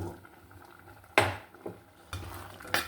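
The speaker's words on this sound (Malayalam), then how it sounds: "നമുക്കൊന്ന് ഇളക്കി കൊടുക്കാം" A spoon stirs a pot of star gooseberry and lentil curry, making a few distinct scraping clatters against the pot over a soft cooking hiss, with no talking.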